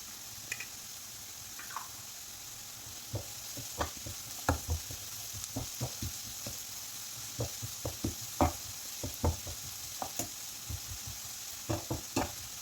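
Fenugreek leaves and potato sauté in a pan under a quiet, continuous sizzle, with irregular clacks and scrapes from a spoon stirring them. The sound is close, and no one speaks.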